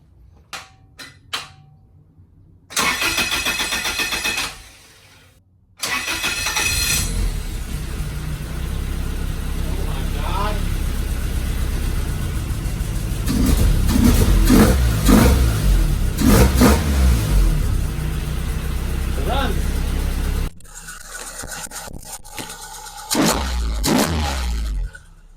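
A Toyota 3SGE Beams engine fitted with S62 individual throttle bodies in a Corolla KE70, heard in a hot garage cranking, catching and then revving hard for a long stretch, loud and close, with brief clatter before and after.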